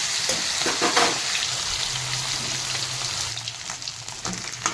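Koi fish frying in a pan make a continuous close crackling sizzle with scattered pops throughout, and no one speaks over it.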